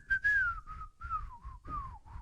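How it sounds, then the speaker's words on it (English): A person whistles a song, a clear wavering melody of short phrases with gentle downward glides, close and fairly quiet with slight breath noise. "I still whistle that."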